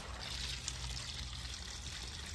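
Water from a hose pouring steadily into a garden cart, a continuous faint rushing and trickling wash with no pauses.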